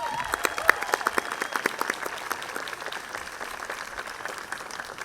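An audience at a livestreamed evening event in Oaxaca applauds, a dense patter of clapping that starts strong and gradually thins out over several seconds.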